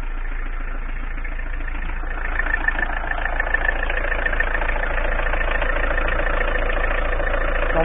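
A car engine with a possible slight rocker-arm clatter idles steadily with a low, even rumble and faint ticking, continuous throughout with no voices.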